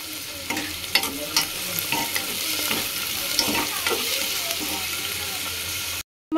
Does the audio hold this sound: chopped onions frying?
yes